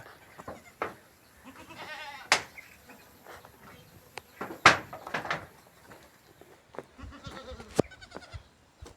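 A goat bleats a few times amid scattered clicks, knocks and faint insect-like buzzing in a quiet outdoor setting.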